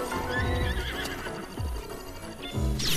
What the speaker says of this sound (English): Oh, the horse is still there.